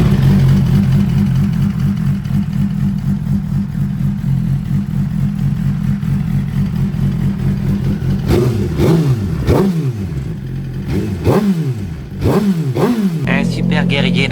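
A Suzuki GSX-R sport motorcycle, back running after three months unused and a throttle repair, idles with a steady rumble, then is revved hard in several sharp blips that rise and fall in quick succession, close and loud.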